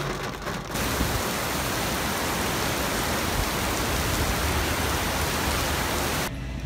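Heavy rain pours steadily in a dense, hissing wash, loud and unbroken for several seconds.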